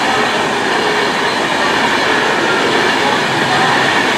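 Pendolino electric express train speeding through Stafford station on the West Coast Main Line, a loud, steady rushing roar of wheels and air filling the whole clip with no let-up.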